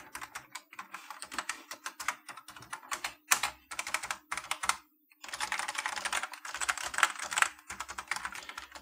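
Typing on a homebuilt vintage-style computer keyboard, a dense clatter of close, crisp keystrokes in uneven bursts with a couple of brief pauses and no talking.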